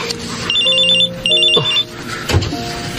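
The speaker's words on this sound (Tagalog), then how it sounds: "May tumatawag sa cellphone ni Mami." A cellphone ringtone used as a sound effect in a Filipino radio drama, a loud electronic warbling ring heard in two short bursts, followed by a few brief tonal effect notes.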